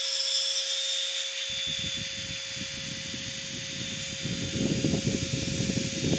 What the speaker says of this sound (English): It doesn't take that long with the inertia sander